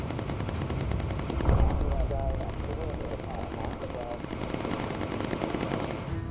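Bomber gunners in the video game Bomber Crew firing high-explosive rounds, a steady rattling burst of machine-gun fire over engine drone with a heavier thump early on, while people talk over it.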